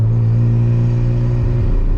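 A Mazda RX-7 rotary-engine car in slow traffic, its engine droning with a loud steady low hum that shifts pitch slightly near the end, heard from inside the car.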